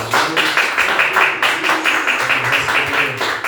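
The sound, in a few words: congregation applauding during church service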